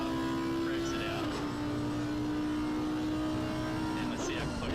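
A race car engine in a PS5 racing game at the Nurburgring revs steadily in a high drone, with pitch dips and rises through corners, under continuous commentary.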